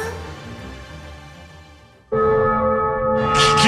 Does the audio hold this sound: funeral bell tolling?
yes